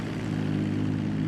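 A Grumman S-2 Tracker twin-engine propeller airplane in GTA 5 roars steadily at full power for takeoff, a loud, constant droning engine with no talk.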